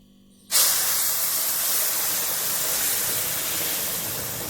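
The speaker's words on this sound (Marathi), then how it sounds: "आता मी आहे ना ह्याच्यामध्ये पाणी टाकून घेते" Hot boiled water hits a pan of ghee-roasted mixture with an abrupt, loud burst of hissing steam that continues strongly and evenly, close by and with no talking.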